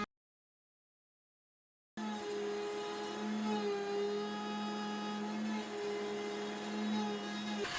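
A Carvera Air CNC machine mills a wooden part, giving a steady whirring drone with faint tonal hums that holds evenly after about two seconds of silence at the start.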